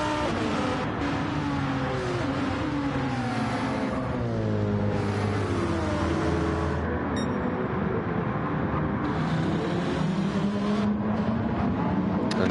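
Racing cars including a Lamborghini Huracan roar around a video game circuit, with several engine notes rising and falling in overlapping sweeps as cars accelerate and pass, in a dense, continuous motor drone.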